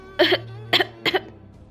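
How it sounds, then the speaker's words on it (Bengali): A mother coughs three times, close and loud, each a short rasping burst spaced about half a second apart over a low steady hum. "কাশিটা অনেক বেড়েছে"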